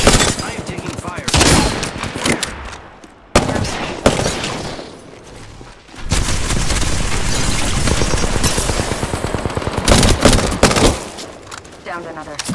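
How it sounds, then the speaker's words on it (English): Gunfire in the battle royale shooter Apex Legends, with rapid bursts and heavy automatic fire running through most of the stretch, loud and close, amid game voice lines and effects. "I am taking fire."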